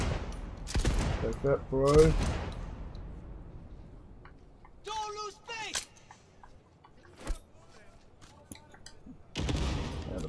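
Gunfire in the Cyberpunk 2077 video game: loud broadband shots and bursts near the start, scattered single shots later and another burst at the end, with someone talking over parts of it.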